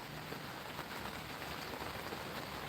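Steady outdoor rain falls as dense, even hiss throughout, with no voices and no distinct drops standing out.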